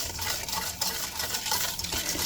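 Egg yolks, sugar and a pinch of salt whisked together in a bowl, a continuous brisk scraping and tapping rhythm, close and fairly loud, with no voices.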